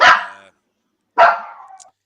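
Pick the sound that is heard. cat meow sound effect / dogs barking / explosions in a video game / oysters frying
dogs barking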